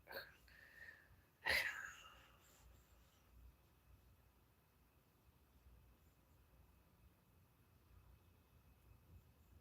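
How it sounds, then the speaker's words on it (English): A single short burp sounds close and fairly loud early on, followed by near silence with faint background noise. "Beauty burped."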